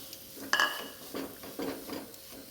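Beef going into a pan of masala for a macaroni dish and being stirred, with a sharp metallic clink of a spoon against the pan followed by a few soft scraping stirs.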